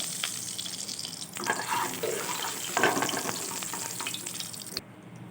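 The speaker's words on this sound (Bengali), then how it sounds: "এবারে আমি বন্ধুরা কড়াইতে দিয়ে দেবো এক টেবিল চামচ ঘি" A tablespoon of ghee crackling and sizzling in a hot kadai, a close, steady frying hiss with small pops and occasional stirring scrapes.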